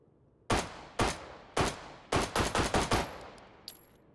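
Gunshots fired at junk bots in the VR game Hot Dogs, Horseshoes & Hand Grenades, three spaced single shots and then a quick string of six or so, sharp and close with short tails, then a faint clatter.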